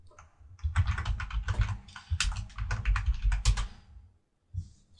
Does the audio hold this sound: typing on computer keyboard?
yes